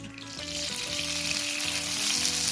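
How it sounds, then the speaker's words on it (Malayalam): Oil poured into a kadai on the stove, a close, steadily rising frying hiss that grows slightly louder over a couple of seconds, with a faint tonal hum underneath and no talking. "എന്നിട്ട് നമ്മൾ ഈ ഫ്രൈ ചെയ്തെടുത്ത അതേ ഓയിൽ ഇതിലേക്ക് ഒഴിച്ചു കൊടുക്കാം"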